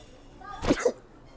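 A single short sneeze bursts out sharply in a quiet room, brief and close.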